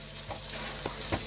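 A fish head fries in a pan with a soft, steady sizzle, with a few faint stirring scrapes over the top, heard close and quiet with no talking.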